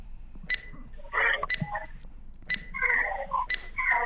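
A quiz countdown timer beeps at a steady once-per-second rhythm, four short clear pulses set against softer warbling tones in the background.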